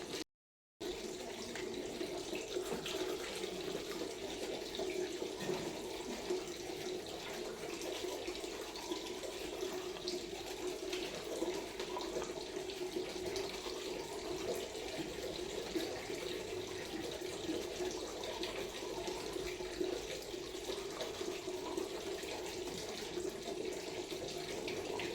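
Tap water runs steadily into a sink as fish is washed, a continuous close splashing hiss that holds evenly for about twenty-five seconds after a brief silent start, with no talking.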